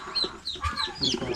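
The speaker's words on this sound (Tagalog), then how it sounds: "Manok po ni pisa." A chicken clucks up close on a farm with cattle and goats, short choppy clucks over a busy background of murmuring voices.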